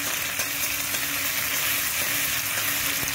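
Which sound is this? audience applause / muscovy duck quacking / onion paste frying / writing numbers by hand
onion paste frying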